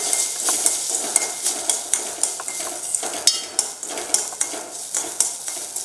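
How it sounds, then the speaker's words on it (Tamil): Repeated scraping and clinking of a spoon stirring dry roasting semolina in a pan, in an uneven rhythm of strokes over a faint sizzle. "ஒரு நிமிஷம் வறுத்தீங்கன்னா இந்த ரவை மறுபடியும் உங்களுக்கு பிரிய ஆரம்பிக்கும்."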